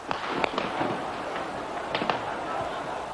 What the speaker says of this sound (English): The noise of gunfire rose from all over the centre of Peking.